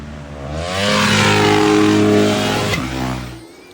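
A 450 four-stroke combustion motocross bike revs up loudly and close, its engine note rising and holding high for a couple of seconds before dropping back off, with no talk over it.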